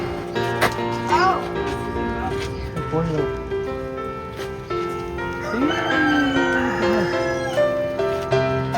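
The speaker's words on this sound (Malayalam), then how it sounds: "നമുക്ക് കോഴീസിനെ കാണാം കൊച്ചു കോഴികളുണ്ട് ഇഷ്ടം പോലെ" Chickens on a small American farm, Drumlin Farm, with short clucks and a drawn-out crowing call heard close by, while people talk over much of it.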